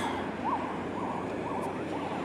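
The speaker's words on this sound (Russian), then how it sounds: "А, да, точно, скорая несется." An ambulance siren wails along a street in Yakutsk near the Transfiguration Cathedral. Its rising-and-falling tone repeats several times, moderately distant, over a steady wash of outdoor and traffic noise.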